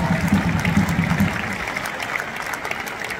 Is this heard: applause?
yes